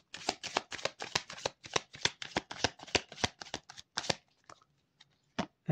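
Tarot cards being shuffled by hand in quick riffling bursts, a rapid run of close, crisp flicks for about four seconds, then a few scattered taps as the deck settles; no talking.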